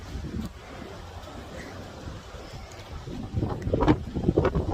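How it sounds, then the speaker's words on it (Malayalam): Rain and strong wind sweep across a rooftop terrace in Kochi, a low gusty rumble buffeting the microphone that swells louder and rougher toward the end, with no clear talk. "കൊച്ചിയിൽ അടിപൊളി മഴയും നല്ല കാറ്റും ഉണ്ട്"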